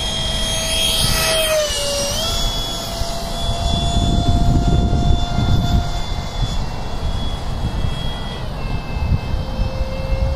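A radio-controlled F-15 with a 64mm electric ducted fan passes by at partial throttle, a loud steady whine that rises and shifts pitch as it sweeps past, over constant wind and broadband rush.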